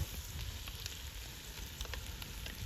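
Carrots hiss and sizzle in hot oil after onions while plov is being cooked outdoors, a dense, continuous frying crackle up close with no talk.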